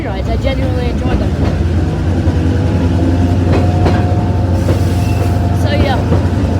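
A Blue Ridge Scenic Railway passenger car rumbles along with a steady low roar, rail clatter and squealing metallic tones, and faint voices are heard under the noise.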